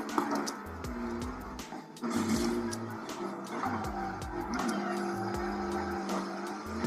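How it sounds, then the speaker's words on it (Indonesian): In the Need for Speed racing game, a car drifts with a continuous engine roar and long, shifting tire squeal that rises and falls throughout, loud and dense with no pauses. "Ini mah drift cuy."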